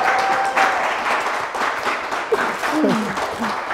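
An audience claps and applauds at a quiz show, a dense continuous patter of hands filling the room at moderate loudness, with voices calling out over it.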